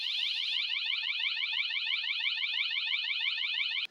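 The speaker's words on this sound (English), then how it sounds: "the alarm is triggered from 12:33 until 12:34" A Hikvision security alarm set off on a schedule wails loudly in a fast, continuous warbling siren pattern, close and unbroken until it cuts off abruptly at the end.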